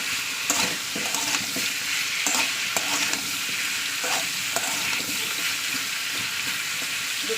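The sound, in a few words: frying spice paste with ginger and garlic in pan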